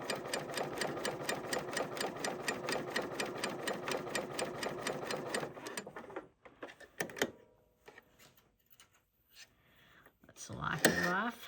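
A Bernina sewing machine with a C28 clear cover/chainstitch foot chainstitches fabric in a fast, even mechanical patter that stops partway, followed by handling clicks and rustling.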